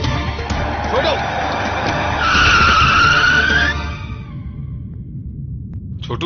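A car skids with a long, loud tire squeal over engine noise in a careless driving moment, then the squeal cuts off and faint background sound remains.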